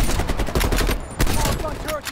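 Rapid gunshots in Call of Duty: Black Ops Cold War, a loud, dense stream of automatic fire with short gaps, close and punchy, with a voice briefly underneath.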